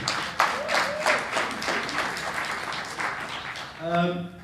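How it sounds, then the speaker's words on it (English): An audience at the 2018 Tropics Business Summit in South Africa claps in a dense, lively burst of applause that dies down as a voice takes over at the end. "Could you please just give Sis Nosy a round of applause for that?"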